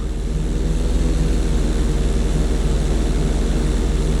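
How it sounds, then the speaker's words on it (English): Propeller aircraft engine in Grand Theft Auto 5 performing an inside loop stunt: a loud, steady, close droning hum with a pulsing throb, continuous and alone without talk. "Steady the plane first, wait for my signal, and then pull back hard on the flight stick"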